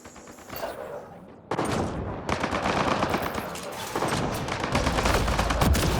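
Sustained turret gunfire in a Mass Effect Andromeda firefight, rapid automatic bursts that start after a brief lull and roll on loud and dense, overlapping into a continuous barrage with booming impacts.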